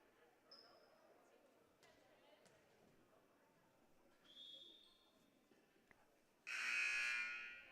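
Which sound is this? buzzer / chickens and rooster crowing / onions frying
buzzer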